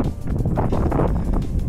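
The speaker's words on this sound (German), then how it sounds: "Ganz schön windig hier." Strong wind buffets the microphone high on the Hochfeiler, a 3510 m peak in South Tyrol's Pfitschertal, near the snow ridge. It comes as a continuous, loud, low rumbling roar with gusty fluctuations and no talk.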